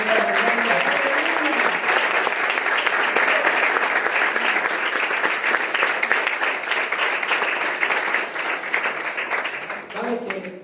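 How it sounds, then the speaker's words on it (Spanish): An audience at a Spanish-language Christian gathering applauds in a long, even wash of clapping that lasts about ten seconds before easing off, with a little voice at the edges. "Queremos dar un aplauso."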